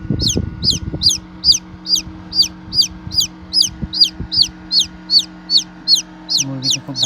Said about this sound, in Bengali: মুরগিটি খুব ডাকতেছে